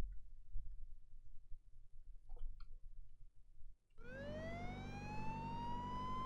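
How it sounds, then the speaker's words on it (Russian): Police car siren from a PSP racing video game, starting abruptly after faint quiet clicks and then wailing steadily and loudly with rising pitch sweeps, clear and close. "Полицейская машина."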